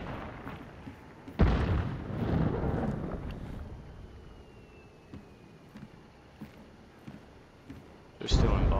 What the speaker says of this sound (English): somebody's shooting at me with a fucking Derringer.